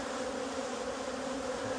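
Honeybees buzz around an open beehive during a beekeeping inspection, a steady, close, droning hum that runs unbroken with no voices.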